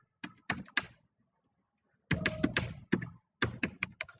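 Typing on a computer keyboard into a browser search bar: two short bursts of crisp, close key taps separated by a brief pause, with no voice over them.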